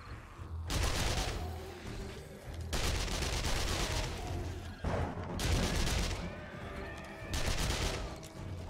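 Bursts of MP5 submachine gun fire in a video game, heard as four rapid automatic volleys of roughly a second each, separated by short pauses, fairly loud and close.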